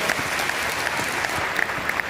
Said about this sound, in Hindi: तो आपके लिए ताली बजा दो यार जो लीडर बनना चाहते हो।